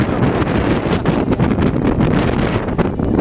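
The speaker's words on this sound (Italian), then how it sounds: "il vento inizia a soffiare veramente forte" Strong wind in a snowstorm roars steadily and loudly against the microphone, buffeting without pause and with no voices.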